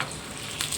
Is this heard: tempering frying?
yes